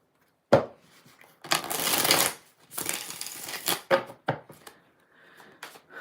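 Classic Tarot deck by Llewellyn being shuffled by hand, several bursts of riffling and sliding cards with short taps between, close and fairly loud, no talking.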